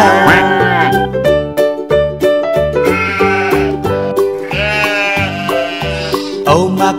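Repeated bleating from a singer's voice imitating a sheep in the nursery rhyme Old MacDonald Had a Farm, set to a bouncy song with steady accompaniment; loud and close.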